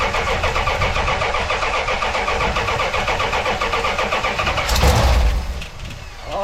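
A non-running big block 1984 Dodge D100 truck engine cranks steadily for several seconds, then catches and fires with a loud burst before settling into a rough, lower idle, close and with no talk.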